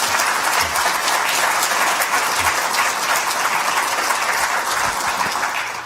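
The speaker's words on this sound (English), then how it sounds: "I think that's worth a round of applause" An audience at an Afro-American Sports Hall of Fame event gives sustained applause, a steady, even roar of many hands clapping that holds for about six seconds without talk.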